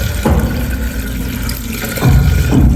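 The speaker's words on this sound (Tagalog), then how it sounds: "Bumababa yung tubig" Water runs down a PVC drain pipe from a lavatory and toilet setup, gushing in bursts with a gurgling rush that fades and surges back, nearby and fairly loud.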